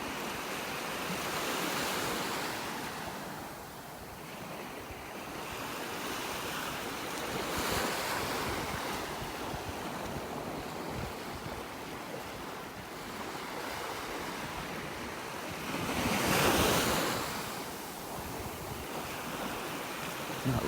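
Surf breaks steadily on a Gulf beach in North Naples, Florida, with gusty wind buffeting the microphone and a few louder swells washing in, with no voices.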